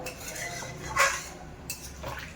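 Chicken simmering in a pan after water is added is stirred with a spatula. Close metal scrapes and clinks against the pan stand out over a low steady background.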